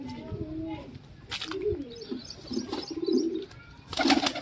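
Pigeons coo softly in short repeated bursts with light chirps, close by, under a voice talking throughout.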